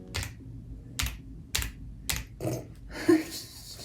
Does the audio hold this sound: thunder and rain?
no